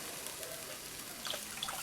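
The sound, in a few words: water poured into seekh kabab biryani pan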